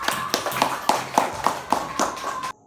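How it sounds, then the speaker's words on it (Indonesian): A class of students claps for a presenting group in a classroom, giving a short run of about eight sharp, spaced claps close by before stopping abruptly. "beri tepuk tangan untuk kelompok 4"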